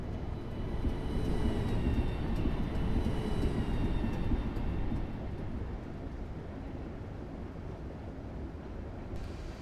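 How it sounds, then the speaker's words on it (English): A train coasts with brakes released in Train Simulator 2015 on the London Bridge to Victoria route, giving a steady, loud rolling rumble and faint high whine that eases slightly about halfway through. "I've released the brakes and I'm just going to let the train coast"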